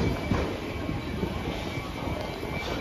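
A train rumbles at London Bridge station, a steady low roll with faint wheel and track noise, heard alone and at a moderate distance.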